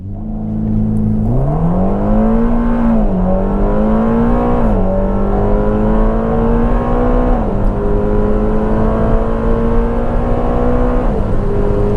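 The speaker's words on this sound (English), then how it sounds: "Okay, left foot on the brake, right foot on the accelerator, revving the motor." Twin-turbo 3.9-liter V8 of a Ferrari Roma Spider held at a steady rev on launch control, then surging into hard acceleration with rising pitch and gear shifts, loud and continuous throughout with no talk.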